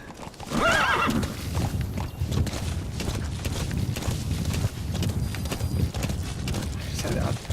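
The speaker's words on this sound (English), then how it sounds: "Just kind of bumped into the horse there." Horse in the Metal Gear Solid V: The Phantom Pain video game gives a clear whinny, then hooves clip-clop steadily for several seconds, with someone talking over it.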